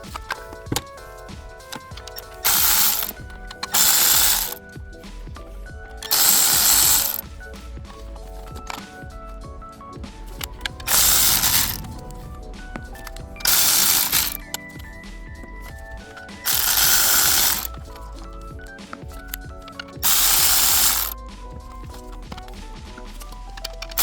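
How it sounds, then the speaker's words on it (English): Ratchet wrench working bolts loose on a cheap Honda car, several separate bursts of rapid clicking a few seconds apart, each lasting about a second, fairly close and loud over a quiet background. "Now I think it's just time to go ahead and remove the rest of the bolts up top."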